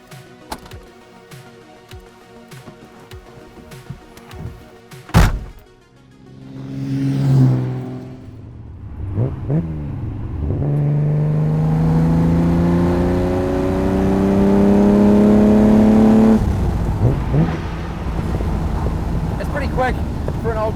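A red 1960s Ferrari 250 GT Berlinetta Lusso starts up, then pulls away and accelerates, its engine note climbing through the gears and growing to a sustained loud drone, heard from inside the car.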